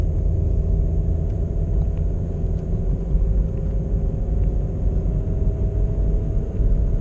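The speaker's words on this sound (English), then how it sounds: "Car's coming." A car approaches on a mountain park road in late May snow, a steady low rumble of engine and tires that holds loud and close throughout with no talking.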